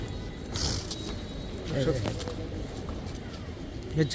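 Pigeons coo softly in the background at a pigeon sale, a few low, throaty calls heard under people talking nearby.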